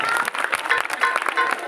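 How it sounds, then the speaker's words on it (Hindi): Audience at a Ramlila stage performance claps in a dense, steady burst for nearly two seconds, with a voice or two mixed into the applause. "जोरदार तालियां बजाइए।"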